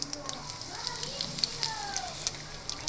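Asafoetida dropped into hot oil with cumin seeds sizzles and crackles in a pan, a faint steady frying hiss dotted with small pops.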